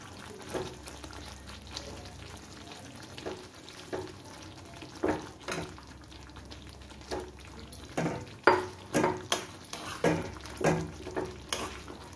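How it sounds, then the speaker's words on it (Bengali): Rohu fish pieces dropped into spiced masala frying in oil for a fish korma, giving a low steady sizzle with a series of louder stirring scrapes and clatters that grow more frequent toward the end. "আমি এর মধ্যে মাছগুলো দিয়ে দিচ্ছি এবার"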